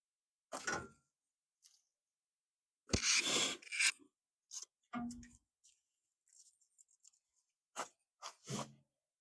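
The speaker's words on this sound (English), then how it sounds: "I got a really nice piece of sandpaper." Sandpaper rubs on corroded ignition points of a 1969 Ford Falcon, coming in short separate scratchy bursts with silent gaps between them.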